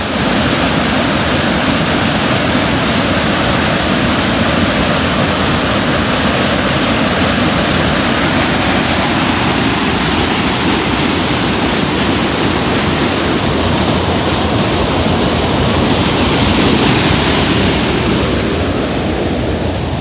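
Water rushes loudly and continuously through an old mill, a dense unbroken roar close by with no voices.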